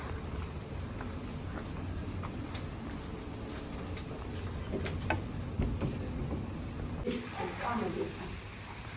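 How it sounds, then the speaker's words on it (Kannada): Steady rain patters and hisses continuously, with scattered louder drops tapping nearby and a voice briefly audible near the end. "ಆಲ್ರೆಡಿ ಮಳೆ ಬರ್ತಾ ಇದೆ"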